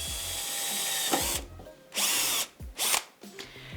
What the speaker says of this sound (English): I'm starting with this driller to prepare a hole for the rivet